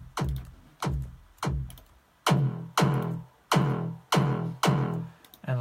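Synth sound made in Harmor with all effects switched off, heard as seven sharp, plucky stabs in an uneven rhythm, each with a bright attack and a quick decay, loud and close with no talk.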